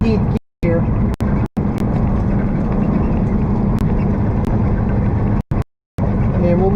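A truck engine drones loud and close while cruising on a highway around 55 and dropping into 17th gear, a steady low rumble broken by a few brief cutouts, with no one talking over it.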